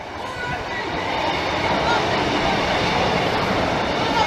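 A Class 156 diesel multiple unit, number 156403 bound for Doncaster, passes a level crossing with a steady, loud rumble that builds and holds close by, while people talk nearby.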